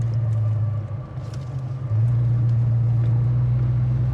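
A 1970 Chevrolet Monte Carlo's engine rumbles steadily from inside the car, dipping briefly then climbing again as it shifts up through the gears with a firm shift.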